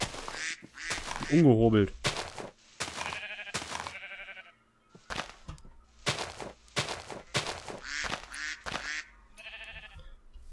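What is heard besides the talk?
duck quacking in the video game Life in the Woods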